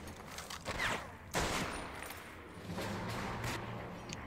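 Gunfire from Medal of Honor: Vanguard, Mission 10, The Crucible, fairly loud bursts of shots with a couple of sharp reports against a steady din of battle, no talking.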